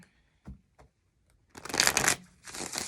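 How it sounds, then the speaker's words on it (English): A few soft taps of tarot cards, then a crisp riffle shuffle and a second quick riffle, close and clear with no talking. "One more shuffle."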